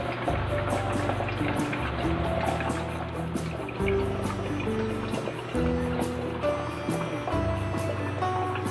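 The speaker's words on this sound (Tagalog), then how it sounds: "non-stop po ang tubig dyan." Water pours without pause from a homemade aerator built from recycled materials for an aquarium, a steady splashing flow with a repeating low mechanical pulse beneath it.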